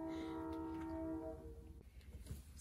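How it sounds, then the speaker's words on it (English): A nearby train horn blares in a long steady chord that cuts off after under two seconds, leaving a low rolling rail rumble that thins out. "Forgive the train, y'all."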